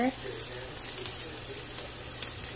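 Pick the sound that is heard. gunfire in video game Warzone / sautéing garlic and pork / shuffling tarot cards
sautéing garlic and pork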